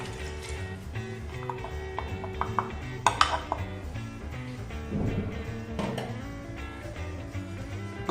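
Beaten egg and activated yeast are mixed in a vessel for East Indian fugiyas dough, with a spoon clinking and scraping against the container in irregular close taps and a brief wet stirring swirl, without voices.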